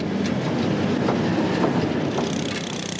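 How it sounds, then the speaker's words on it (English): Two heavy diesel locomotives roll slowly across a railway bridge on a British Rail line, giving a steady, loud rumbling drone with faint rhythmic wheel clicks throughout. "2 substantial diesels will do the job nicely."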